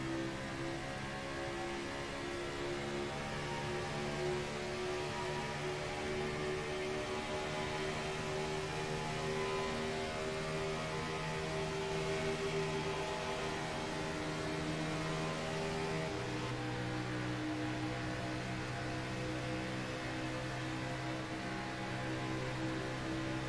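Onboard race car engine at Daytona, a continuous droning whine with stepped pitch shifts as it runs through the gears, steady and fairly quiet throughout with no voices.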